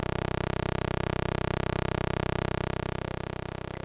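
A synthesizer oscillator plays a rectangular pulse wave with its pulse width narrowed from a square, a thin, nasal buzz held at one steady pitch, alone and fairly quiet.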